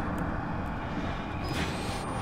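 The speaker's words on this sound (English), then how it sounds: "Well, I'm gonna fucking turn the valve." A valve turned in the horror game Outlast releases a loud, steady hiss of rushing gas or steam with a faint high whistle, no talking.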